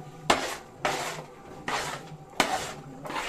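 Four sharp scraping strokes of a spoon through sabudana khichdi in a pan, each a quick clatter against the metal that fades before the next, in an even, unhurried rhythm with no talk.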